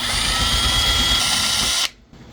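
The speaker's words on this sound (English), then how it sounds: "I guess I'll have to drill them holes a little bit." A power drill bores out screw holes in the plastic fairing of a Honda CBR 600RR motorcycle, whirring loud and steady up close for nearly two seconds before cutting off abruptly.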